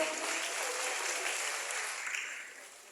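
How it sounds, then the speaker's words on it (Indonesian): Audience applause at a youth forum, a broad wash of many people clapping that holds steady and then gradually thins and fades toward the end. "Tepuk tangan buat Pak Alu Dohong."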